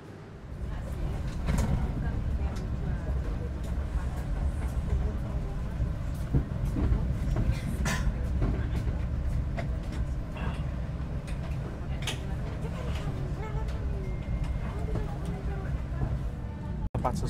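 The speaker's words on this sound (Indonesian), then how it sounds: "kereta api Kertanegara yang saya naiki sudah diberangkatkan dari stasiun Malang" Kertanegara train pulling out of Malang station, a continuous low rumble and rattle of the moving carriages with scattered knocks and clanks, heard from inside the train under occasional voices.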